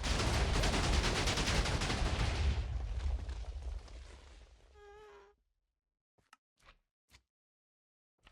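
A TNT rocket in the video game Minecraft goes off in a loud, roaring blast that fades over several seconds into silence, followed by a few faint, scattered clicks.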